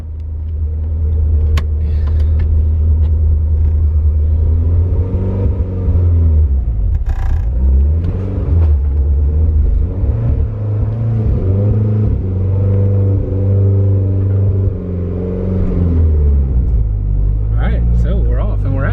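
A loud car engine rumbling steadily as the car is moved out, a deep sustained drone with shifting revs, close and dominant from start to finish, with a voice briefly heard near the end.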